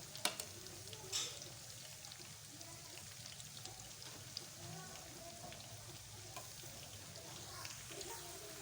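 Pakoras for kadi pakoda fry in a pan of hot oil, giving a steady, soft crackling sizzle with faint bubbling throughout and no talk.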